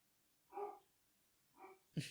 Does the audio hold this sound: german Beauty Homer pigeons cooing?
no